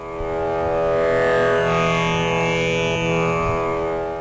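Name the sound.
fretless four- or five-string drone instrument tuned to sa and pa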